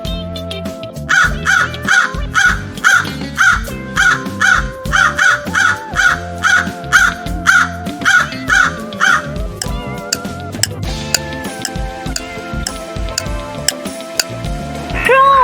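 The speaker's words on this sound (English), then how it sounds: "Crow. It's" A crow caws repeatedly in a steady, evenly spaced series of loud, close calls, followed by a stretch of background music in a children's sound-guessing game.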